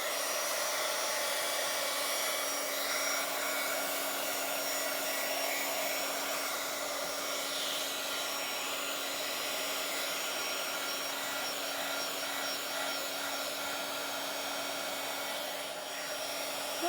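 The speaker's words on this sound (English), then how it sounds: "I have to hit this with the dryer one more time." A handheld heat dryer blows continuously at close range, a steady whooshing hum with no breaks and no voices.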